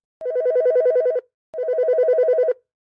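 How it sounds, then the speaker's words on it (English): A telephone rings twice in clear, evenly spaced electronic bursts, each about a second long, with silence between and no other sound. "Then my phone rings."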